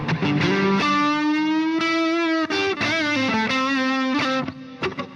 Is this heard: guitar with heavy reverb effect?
yes